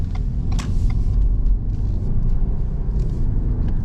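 Lincoln Corsair SUV pulling away from a stop, a steady low engine and road rumble heard from inside the cabin, with faint clicks and no talk.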